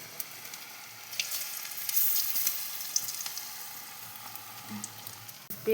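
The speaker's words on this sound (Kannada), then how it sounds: "ಈರುಳ್ಳಿ ಪಕೋಡ ಎಣ್ಣೆಗೆ ಹಾಕಿ ನೋಡಿ ಫ್ರೆಂಡ್ಸ್" Onion pakoda fries in hot oil at home, a bright steady sizzle with bubbling crackles that swells briefly, close and without speech.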